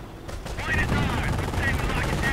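Bursts of machine gun fire crackle in a World War II strategy video game, rapid rattling volleys that come and go over a continuous battlefield rumble.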